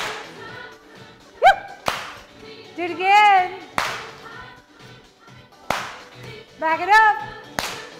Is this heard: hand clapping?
yes